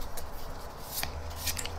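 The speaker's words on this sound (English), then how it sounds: "So this time we have all shuffled the cards." A deck of playing cards being shuffled by hand for a poker card trick, a close, brief burst of soft riffling and flicking under two seconds long, with no talk.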